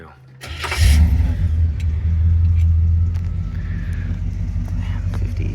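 A 1965 Chevrolet Caprice with a 396 big block V8 cranks briefly and fires, settling into a loud, deep rumbling idle with slight revving close by.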